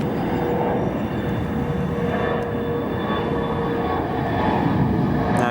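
An Atlas Air airplane at O'Hare Airport makes a loud, steady jet roar that fills the whole stretch without a break.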